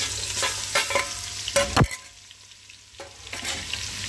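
Ginger garlic paste sizzles in hot ghee while a spoon scrapes and stirs the pan in a few quick strokes, with the frying heard up close.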